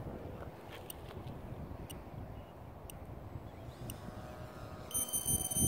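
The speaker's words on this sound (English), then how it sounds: "That's a 5-minute timer going off right there." A 5-minute timer beeps with short repeated high tones near the end, over steady wind and outdoor rumble at a model sailplane flying field.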